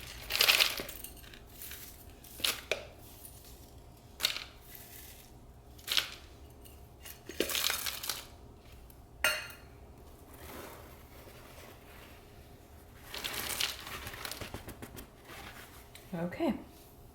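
Orchid potting mix for a cymbidium repot being layered into a mixing cup: quiet room with scattered bursts of dry, gritty rattling and clattering as chunks tumble in, separated by short pauses.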